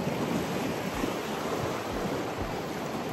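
Ocean waves roll onto a roadside beach in a steady, loud wash of surf with a continuous roar and faint wind noise, no voices present.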